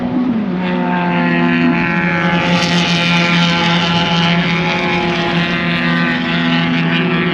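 Spec Miata race car at full throttle through a corner at Hallett, a loud sustained engine drone holding a steady high pitch without lifting, heard close.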